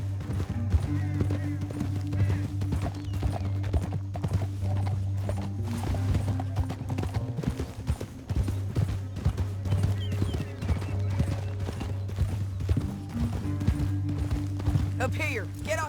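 Horses gallop in the video game Red Dead Redemption 2, with rapid rhythmic hoofbeats running throughout over a low, steady musical drone, and voices come in at times.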